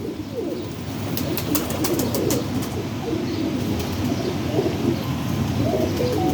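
Pigeons coo steadily in a low, continuous murmur, with a few brief flutters and chirps scattered over the top; no talking.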